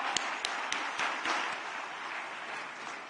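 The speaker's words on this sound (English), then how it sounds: "all the students are requested to clap for their parents" Students at an orientation day clap for their parents, a few sharp individual claps at first that build into soft, steady applause, heard from a distance.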